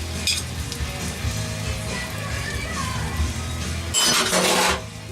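Three eggs with cream, salt and pepper sizzling in a hot pan, a steady close frying hiss with a brief clink of a utensil near the start and a louder burst of sizzle toward the end.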